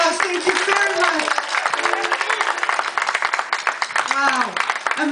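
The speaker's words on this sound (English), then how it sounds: "I give you a very loud applause" Applause from a live band concert audience in Ahmedabad, a dense steady wash of clapping and crowd noise throughout, with a voice speaking over it and brief melodic tones rising through.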